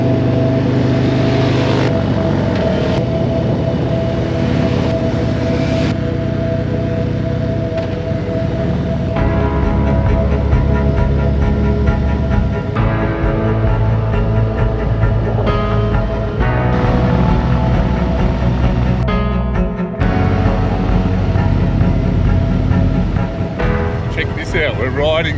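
Harley-Davidson motorcycles roll through a golf course on a group ride, a loud continuous engine drone with shifting throttle and wind rumble throughout, people talking over it.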